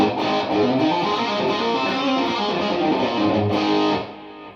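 Thick, muddy distorted electric guitar chords sustain loudly, dense and heavy in the low end, then fade out near the end.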